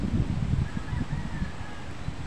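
Strong wind from a Signal No. 1 typhoon roars in low, gusty rumbles buffeting the microphone, steady and close throughout the short stretch.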